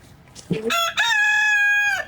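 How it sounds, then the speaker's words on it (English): A rooster crows once, loud and close, with a long sustained call after a short rising start, in a chicken coop with hens, as part of a garden setting. "here's the fun chicken coop"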